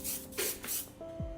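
Compressed-air hiss of an airbrush spraying paint onto a miniature part, steady bursts of broadband spray rising and falling over a low background hum, close and fairly loud.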